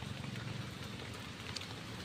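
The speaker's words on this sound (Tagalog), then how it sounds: "So umuulan na naman po mga kaibigan" Rain falling outdoors in mountain countryside as the sky darkens, a steady, even wash of soft patter and hiss that stays constant throughout, with no voices.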